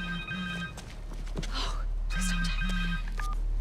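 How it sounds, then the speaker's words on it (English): A cell phone rings in Marvel's Spider-Man 2, its steady electronic tones repeating twice over game ambience and low music, with brief speech in between. "Connor's cell phone."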